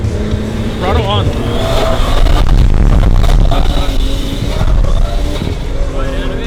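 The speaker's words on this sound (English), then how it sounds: "And then clutch kick. Throttle on." A car engine revs and surges hard while drifting, with the driver clutch-kicking and getting back on the throttle, loud and close throughout, with a voice talking over it.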